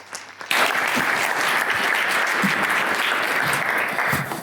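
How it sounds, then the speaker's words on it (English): An in-person audience at a UK sales leadership awards event bursts into loud, sustained applause after a speaker is introduced, the clapping starting abruptly and holding steady until it begins to taper. "So let's have a round of applause for our final speaker."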